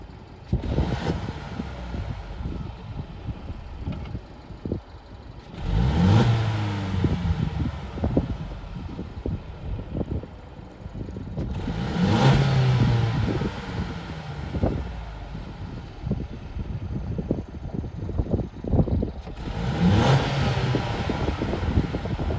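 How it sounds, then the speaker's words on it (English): Mercedes-Benz C300 4MATIC Coupe's 241-horsepower inline-4 engine revving up in Sport Plus mode in three swelling surges, each rising then easing back, over steady road and wind noise. "This Mercedes 300 4MATIC Coupe has a 241 horsepower inline-4 engine."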